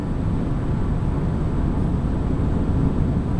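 Vauxhall Astra with LPG dual fuel cruising in fifth gear, a steady, loud low-pitched engine and road drone with wind roar, continuous and even throughout.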